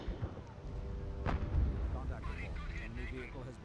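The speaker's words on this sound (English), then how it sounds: "now let's see with supercharged artillery rounds" Supercharged artillery rounds firing in the Company of Heroes Blitzkrieg Mod, British Royal Artillery, with low booming blasts and rumbling impacts rolling underneath steady talking.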